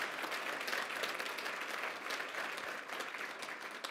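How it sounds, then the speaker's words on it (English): A university event audience gives a steady, dense round of clapping that fills the whole moment at moderate distance, with no voice over it. "One last round of applause for President Stanley."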